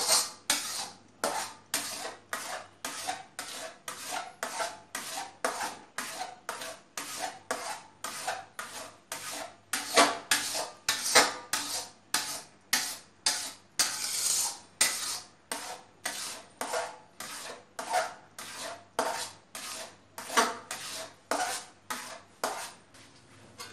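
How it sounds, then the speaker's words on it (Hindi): Suji halwa is stirred continuously in a kadhai, a rhythmic series of close scraping, rasping strokes against the pan, roughly two per second, loud and steady with no talk. "लगातार हिलाइए चारों तरफ से, कहीं से लग ना जाए, जल ना जाए"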